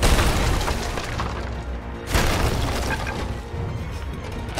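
Heavy ship cannon fire during a naval battle in the pirate game Sea of Thieves, booming blasts and crashing impacts in a loud continuous rumble, with a fresh burst about halfway through and no talk over it.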